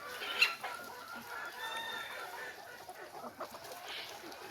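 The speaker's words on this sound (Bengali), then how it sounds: "মুরগিগুলো কিন্তু বাত খাচ্ছে হ্যাঁ অনেক সুন্দরভাবে বাত খাচ্ছে" Free-range desi chickens peck at cooked rice outdoors and give soft, scattered clucks. The clucks are faint and sit over a low background hum.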